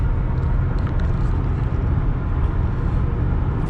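A 2011 Subaru Legacy Limited AWD sedan on the road, heard from inside as a steady, loud low rumble of engine and road noise that holds constant throughout with no voices.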